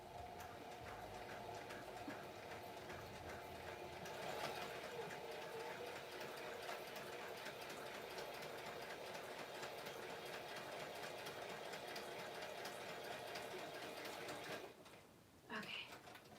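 Sewing machine stitching steadily at a moderate level, a continuous mechanical whir with light rhythmic clatter that stops near the end, followed by a short handling noise.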